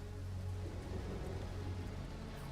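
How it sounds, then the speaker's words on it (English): Steady rain falling, a dense even hiss with a low rumbling undertone, continuous and unbroken with no voices. "Rain's got to stop someday."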